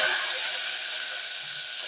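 Mustard seeds and dried red chillies sizzling in oil as a tempering, a bright, even hiss that fades slightly over under two seconds, close and alone.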